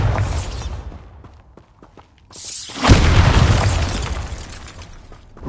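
A Bombarda spell explodes in the Hogwarts Legacy video game: a deep, loud boom bursts out after a quieter stretch and rumbles on for several seconds as it slowly fades.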